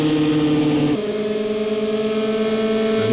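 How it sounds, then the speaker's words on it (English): Race car engines in Project CARS 2 during an endurance round at Le Mans give a loud, steady, buzzing drone that shifts pitch partway through, with two cars running nose to tail. "he's got it in stereo for having Wartire's engine right ahead of him"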